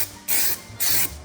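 Two bursts of Raptor structural coating sprayed in a BMW E46 M3 Compact engine bay, each a loud, close hiss lasting about a quarter second and separated by a short pause.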